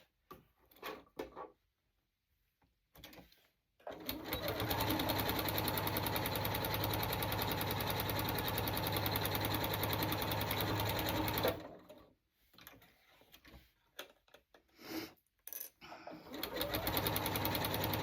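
A sewing machine stitches fabric pieces for a butterfly, running in a steady, close mechanical whir for several seconds, broken by short stops and stop-start bursts while back stitching, with scattered clicks from handling between runs.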